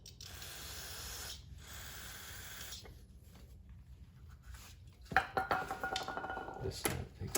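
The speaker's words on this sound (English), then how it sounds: "cleaning everything with some brake cleaner" Brake cleaner hisses from an aerosol can in several bursts onto small-engine generator parts, followed by clattering and handling of metal pieces nearby.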